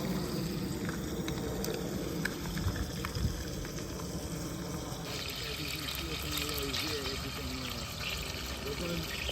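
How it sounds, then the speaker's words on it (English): Chicken frying slowly in oil with a Scotch bonnet pepper over an outdoor fire by a river gives a steady, dense sizzle and bubbling that runs throughout, with faint voices and outdoor background underneath. "We've got a Scotch bonnet pepper in our oil, and our chicken is frying up nice and slowly"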